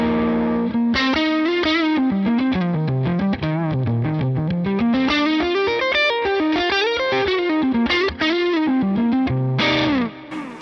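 Overdriven electric guitar with Matchless DC30-style amp settings and a noise gate plays a continuous gritty riff with bending, sliding notes, loud and close, no talking.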